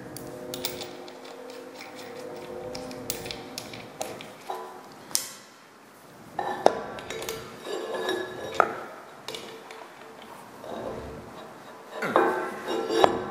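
Metal washers clink and chink in scattered bursts while a welded lathe moving dolly is put back together, with tool handling and light clatter between the sharp metallic taps.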